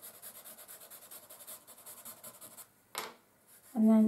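Charcoal rubbed and scratched across drawing paper while sketching trees, a steady soft rasping texture that runs continuously, then a brief louder scuff near the end followed by a short tonal blip.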